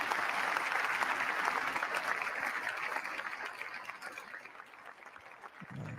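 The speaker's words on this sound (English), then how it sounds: "Not a lot of clapping there." Thin, scattered clapping from a distant crowd at an inauguration, steady at first and then slowly thinning out as the applause fades.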